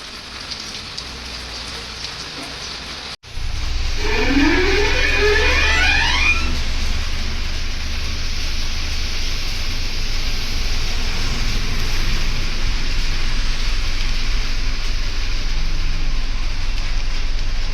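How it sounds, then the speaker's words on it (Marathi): Heavy rain pours steadily after a brief cut as a vehicle sets off, a dense loud hiss drumming on a surface, with a short rising whine early on. "बघा निघाला आणि पाऊस पण जरा जास्त जोरात पडतंय"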